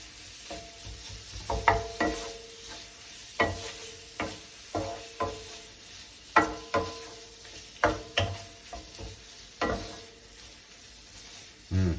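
Tinned tuna curry stirred in a pan, Seychelles style, with a quiet simmering sizzle under intermittent spoon scrapes and clinks against the pan, spaced irregularly and heard close without speech.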